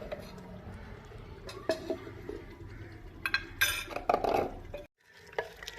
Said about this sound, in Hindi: देखिए अब हम इसे कर लेते हैं डिश आउट